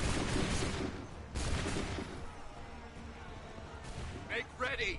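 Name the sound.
musket volley fired in Assassin's Creed III video game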